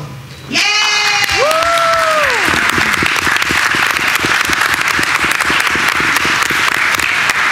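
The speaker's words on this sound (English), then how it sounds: "Give them a round of applause" Audience applause at a board of education meeting, beginning after a brief whistle-like tonal burst and swelling into steady, loud clapping that fills the room for several seconds.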